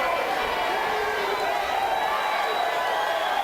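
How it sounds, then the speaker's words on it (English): A fired-up crowd at an Extreme Fights combat-sports match at Night of Champions, with a steady roar of cheering and noise from a large audience, continuous and fairly loud, with commentary running over it. "Crowd is fired up."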